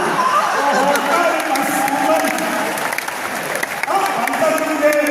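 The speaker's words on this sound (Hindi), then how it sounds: "तालियां बजाते रहो" An audience at a Hindi poetry recital in Raipur claps steadily for about five seconds, a dense, loud wash of clapping with faint crowd chatter underneath.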